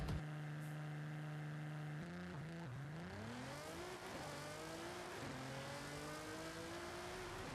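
Car engine in Forza Horizon 5 held at steady high revs on launch control, then dropping and climbing through rapid gear changes as the car launches, loud and close with no talk.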